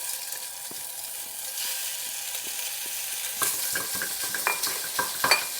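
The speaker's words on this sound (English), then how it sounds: "So now the pan is nice and hot, I'm just going to add my bacon in." Bacon sizzles steadily in a hot pan as a casserole gets underway, a continuous close frying hiss; toward the end, sharper clicks and scrapes of a spoon breaking up the rashers break through the sizzle.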